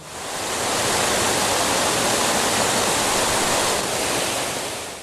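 Water cascades down a cliff face in a loud, steady roar of rushing spray that fills the whole stretch, swelling in at the start and easing slightly at the end, with no voices.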